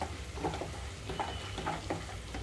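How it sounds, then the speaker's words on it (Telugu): Ginger garlic paste fries in oil over a high flame for an amaranth leaf and chana dal curry, giving a steady close sizzle with soft stirring scrapes and no voices. "ఇక్కడ మనం వేసిన పేస్ట్ మంచి వాసన వచ్చే వరకు కూడా కొంచెం స్టవ్ని హై ఫ్లేమ్లోనే ఉంచి వేయించుకోవాలి"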